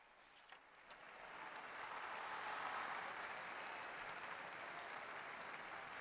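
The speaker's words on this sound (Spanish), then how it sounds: "escuchamos el aplauso de la multitud presente en la plaza de San Pedro" A large crowd applauds in St Peter's Square as the Pope departs after the Sunday Angelus, a faint, distant wash of clapping that builds gradually and holds steady.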